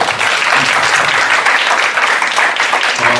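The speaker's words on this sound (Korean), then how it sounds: "박수해 주세요." A church youth service congregation applauds, loud sustained clapping from many hands filling the room evenly throughout, with faint voices underneath.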